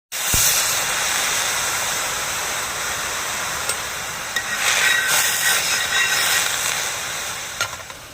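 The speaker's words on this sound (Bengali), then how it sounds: "তো তওয়ার মধ্যে অল্প একটু জল দেব।" Water splashed onto a hot tawa griddle for oil-free aloo kulcha, a sudden loud hiss that settles into steady, close sizzling and crackling for several seconds, no talk.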